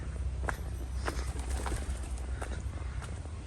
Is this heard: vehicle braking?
no